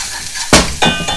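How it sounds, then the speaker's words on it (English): Allspice pimento seeds land in hot oil in a pot for Jamaican curry goat, giving a couple of sharp clinks over a constant close sizzle; no one speaks. "And some allspice, pimento seeds,"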